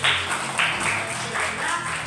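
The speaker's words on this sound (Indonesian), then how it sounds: "Tepuk tangan dulu si Yosi." Classroom clapping as students applaud a classmate during a lesson, a steady dense patter of many hands close by, with a faint voice underneath.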